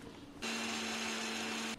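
A mixer grinder grinding beetroot whirs loudly with a steady high motor whine, starting abruptly and cutting off after about a second and a half.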